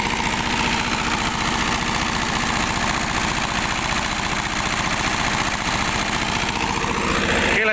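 A diesel engine running steadily like a generator set gives a loud, close, even idle with a rapid low throb, continuous throughout with no voices.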